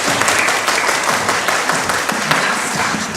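A crowd at a worship gathering claps their hands together loudly and continuously, a thick wash of close applause with no voices over it.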